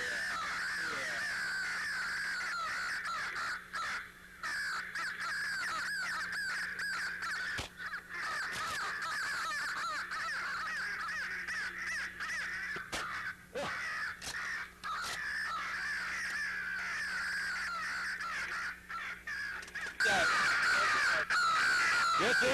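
Crows caw repeatedly during a crow hunt, harsh overlapping calls from several birds, some near and loud, others farther off, continuing in steady bursts with brief pauses.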